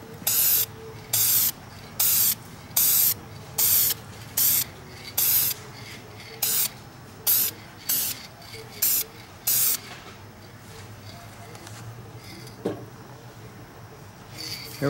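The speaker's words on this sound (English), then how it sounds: "Going to spray this on the bottom section." Coating sprayed onto the bottom section of a metal piece: a run of loud, evenly spaced hissing bursts for about ten seconds, then quiet room tone with a faint knock.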